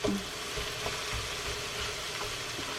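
Four cups of sliced cabbage cook in a pan on medium-high heat, giving a steady, quiet broadband sizzle with a few faint bumps and clicks throughout.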